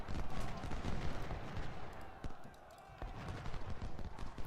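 Cannon and canister fire from the video game Ultimate General: Civil War: a dense battle din of booming reports and rattling volleys, with a few sharper cracks standing out over continuous rumbling.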